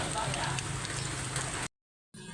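Saba bananas fry in hot oil with a dense, steady crackling sizzle, close and fairly loud, which cuts off abruptly into silence before resuming faintly at the end.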